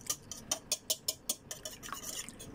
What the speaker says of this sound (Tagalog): Kailangan lang pong haluin.